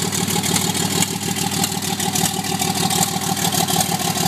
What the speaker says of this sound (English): Bit of backfire.